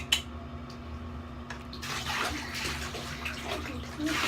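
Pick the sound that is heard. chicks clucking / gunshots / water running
water running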